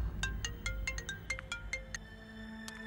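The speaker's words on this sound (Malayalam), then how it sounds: "ഒന്ന് നിക്കണേ ആന്റി, ഫോൺ വരുന്നു." A mobile phone ringtone plays for an incoming call, a bright repeating melodic pattern of short electronic tones in steady rhythm, fairly close and moderately loud over faint room background.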